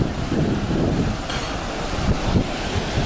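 Wind buffets the microphone out on the open sea, with waves and surf rushing steadily underneath, loud and continuous for about three seconds, no voices.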